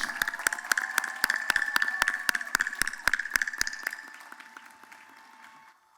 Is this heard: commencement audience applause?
yes